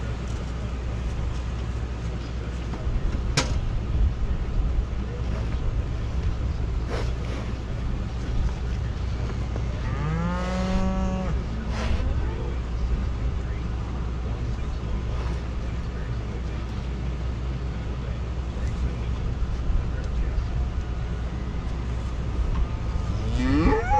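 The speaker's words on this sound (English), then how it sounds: "Did you see that cow eating cake out of my hand?" A cow moos once at a farm pasture with trampled standing vegetation, a loud drawn-out call standing out over steady low outdoor rumble and background noise.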